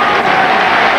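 Football stadium crowd in Wrexham v Newport County, 2003, applauding after a goal: a dense, loud roar of clapping and cheering filling the short moment without break.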